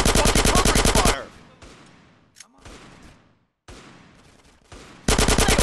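Rapid automatic gunfire rattles in dense, loud bursts during a street firefight in GTA San Andreas. One burst opens and another closes, with quieter shots, echoes and brief shouting in between.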